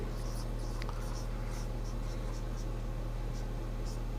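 Pen strokes scratch out a Class 11 maths solution on sets in short, soft, irregular bursts, heard close over a constant loud electrical hum.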